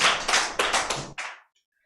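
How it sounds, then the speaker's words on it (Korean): Short applause from an audience at a youth eco-friendly lifestyle project presentation in Eunpyeong, Seoul: a few loud, close bursts of clapping over about a second, then silence. "2부 첫 발표인 만큼 박수 힘차게 부탁드립니다."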